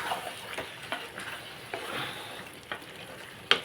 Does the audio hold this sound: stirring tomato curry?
yes